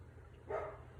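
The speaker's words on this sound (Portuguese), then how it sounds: "Olha lá, o cachorro latindo, né?" A dog barks once in the distance inside a home studio, a single faint, muffled bark in the middle of otherwise quiet room noise.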